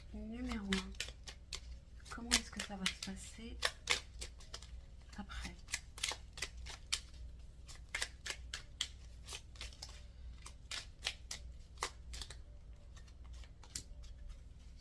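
Tarot cards shuffled by hand, a long run of crisp, rapid close riffling snaps in irregular bursts, with a quiet voice speaking briefly at the start.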